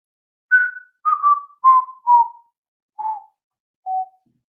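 A person whistling six short, slightly wavering notes that descend in pitch, with pauses between them, alone and fairly close.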